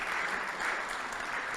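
Audience clapping at a French housing and territories awards debate, a short, steady burst of applause that stays moderately faint and even for its whole length.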